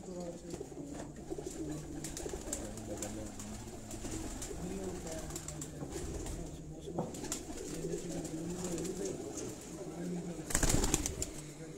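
Rooftop pigeons in Sialkot keep up a continuous low cooing amid background noise and people talking, with a brief louder rustling burst near the end.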